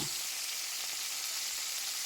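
Chicken frying in organic olive oil makes a continuous, even sizzle close by, soft and steady with no voices.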